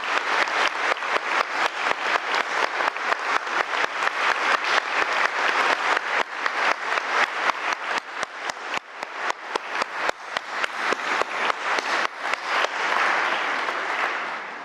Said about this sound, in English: join me and my fantastic colleagues here on this dais to thank them by clapping, if we may please, as a mark of support